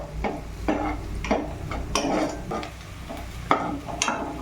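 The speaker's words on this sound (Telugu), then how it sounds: "ఇప్పుడు ఆనియన్ మనకి మగ్గేంత వరకు మీడియం ఫ్లేమ్లో పెట్టుకొని మగ్గనిచ్చుకోవాలి" Onions sautéing in a little oil over a medium flame for chapathi fry, with a steady soft sizzle broken by repeated stirring scrapes of a spatula against the pan, close and fairly quiet.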